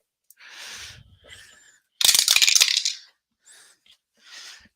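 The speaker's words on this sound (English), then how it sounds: "And we drop the dice." Dice for an APBA baseball board game are dropped and rattle briefly, a few light clicks before one loud tumbling clatter lasting about a second, then small settling taps, close and alone in an otherwise quiet room.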